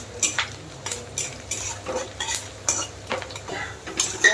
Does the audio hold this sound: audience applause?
no